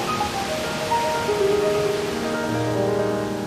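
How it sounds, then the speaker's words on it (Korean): A wide, clear waterfall in Aomori pours in a steady, full rush of broadband water noise that holds at an even level throughout, close and alone with no voices. "굉장히 넓은데 물도 맑고 아주 시원하게 물줄기까지 여기까지 풀어내오는 그런 폭포입니다."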